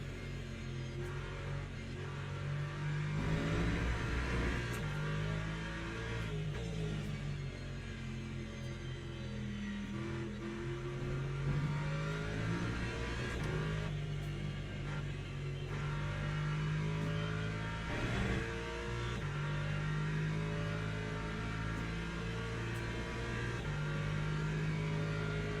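Race car engine on a straight in Le Mans Ultimate, a damaged car droning steadily and loudly, the pitch climbing through the gears with periodic drops at upshifts, alone without talk.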